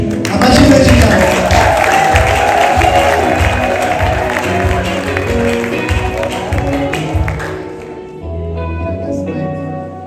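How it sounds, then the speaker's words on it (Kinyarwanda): Wedding guests applauding during the vows at a wedding ceremony: dense, loud clapping that swells early, carries on for about eight seconds, then fades out as a softer tonal sound takes over, with voices in the background. "Imana izabimfashemo amashyi menshi cyane."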